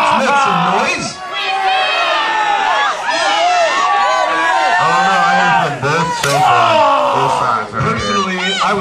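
A wrestling event crowd cheers and screams loudly and continuously, with yells and bellows rising in waves, while voices shout over the din.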